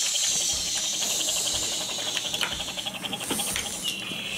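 A toy fire truck sprays water at a pretend fire, giving a thin continuous hiss and spritz with light clicks and taps from the toy, quiet and close, without speech.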